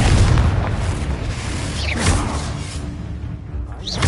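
A Confringo blasting curse going off in the Hogwarts Legacy video game, a loud booming explosion with a whooshing burst and a rumbling tail that fades before another whoosh.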